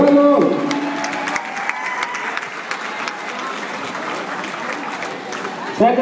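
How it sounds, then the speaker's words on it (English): A crowd at a kickboxing event breaks into loud, close applause with some cheering, which starts strong, tapers slightly and holds as a steady clatter. "give them a big round of applause"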